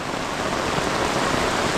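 Heavy monsoon rain pours steadily over a flooded Konkan village, a dense, even roar of water with no pauses and no voices.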